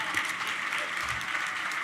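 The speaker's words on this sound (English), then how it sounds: "Please, a round of applause for everyone." Dense applause from an audience at an awards ceremony, a steady wash of clapping throughout this short moment, even in loudness without a clear start or end.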